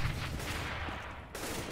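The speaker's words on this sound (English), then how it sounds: "There's a lot of shooting." Gunfire rattles through a CS:GO match, a dense, continuous barrage of shots at moderate distance with a brief drop partway through before the noise resumes.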